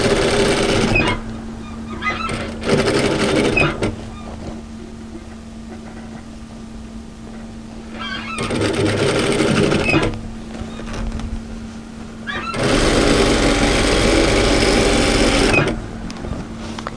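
A sewing machine edge-stitches a cross-back apron with ties and pockets in three loud bursts of running stitches, separated by pauses with a low steady hum, no talk over it.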